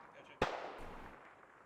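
A single sharp gunshot rings out in the Squad video game, followed by a short rumbling echo that fades over a second, fairly faint beneath a quiet background.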